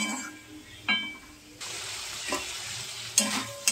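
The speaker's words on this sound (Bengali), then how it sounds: "আমার আলু আর বিনস দুটোই ভাজা ভাজা হয়ে গেছে" Potatoes and beans sizzle in a pan, with a steady crackle that surges louder partway through and a few scraping stirs and clinks of a spoon.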